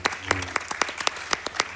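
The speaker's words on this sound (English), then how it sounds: "so round of applause for that." An audience at a speedrun stage at a gaming convention gives light applause, with scattered, distinct claps from a modest crowd and a brief voice underneath.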